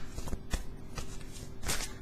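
Tarot cards are shuffled by hand in close, soft papery riffles and flicks, a few brisk bursts spread over a couple of seconds, with no voice.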